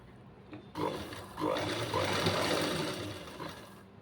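A computer sewing machine stitches a neck lining, a faint hum that swells into a steady close whir of rapid needle strokes for a few seconds before easing off.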